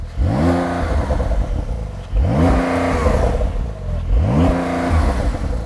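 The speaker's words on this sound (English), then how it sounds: "Start the car up, give it some revs." A car fitted with a sports exhaust system revved three times while stationary, each loud close rev rising sharply and then cut off by a soft limiter, with a falling idle between bursts.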